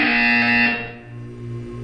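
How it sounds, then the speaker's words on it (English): A loud, harsh electronic buzzer in Portal 2 blares for under a second, then cuts to a lower, quieter hum. "When you hear the buzzer, look up at the ceiling."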